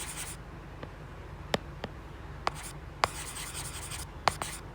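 Quiet pen writing during a study lecture, a soft scratchy scribble with several crisp taps and strokes spaced irregularly, close up and without talk.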